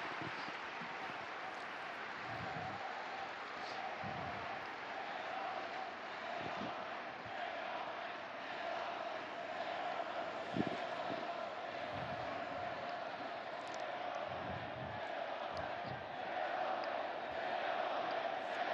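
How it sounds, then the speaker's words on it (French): A large open-air crowd gathered for the Pope's message of peace applauds and murmurs in a sustained, fairly distant wash, with scattered louder swells and no voice speaking over it. "Il a fait une pause. C'est-à-dire qu'il laisse les applaudir."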